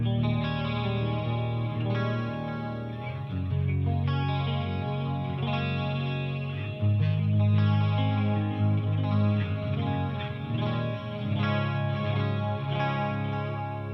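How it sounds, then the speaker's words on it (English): Clean-channel electric guitar through a Krank Krankenstein amp's effects loop, dressed with chorus and delay, plays a sustained, shimmering chordal passage with echoing repeats, steady and fairly loud throughout with no talking. "Let's dress it up with a little bit of chorus and delay."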